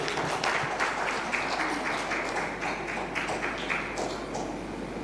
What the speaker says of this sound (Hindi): आइए रचनाकारों के लिए एक बार जोरदार तालियां बजाइए।